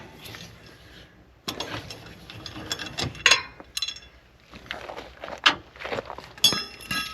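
A ratchet clicks in bursts while wheel nuts on a Firebird car are tightened, with rapid mechanical pawl clicks separated by short pauses and occasional clanks of the tool.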